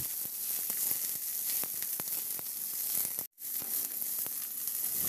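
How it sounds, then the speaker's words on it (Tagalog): Onions and garlic sauté in oil in a pan with a steady, fairly quiet sizzling hiss and a few light stirring taps, plus a brief dropout partway through. "isunod ko na rin ilagay yung sibuyas. Ihalo lang din hanggang sa maluto."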